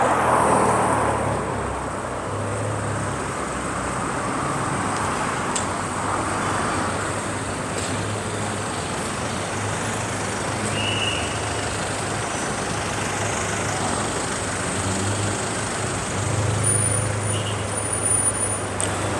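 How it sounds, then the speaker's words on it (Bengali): Steady road traffic, with cars and heavier vehicles rumbling past in a continuous low drone that holds at an even level throughout. "দেখতে পাচ্ছেন গাড়ির কি স্পুটিং সাউন্ড"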